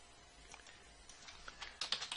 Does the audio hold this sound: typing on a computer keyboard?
yes